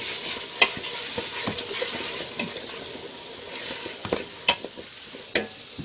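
Canned whole peeled tomatoes are stirred into a hot pan of snapper: a continuous close sizzle broken by sharp spoon clacks and scrapes against the pan, a few louder knocks toward the end.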